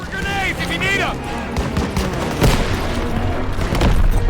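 Gunfire in the Call of Duty WW2 stronghold battle, scattered bursts and heavy thuds mixed with shouted voices and battlefield noise.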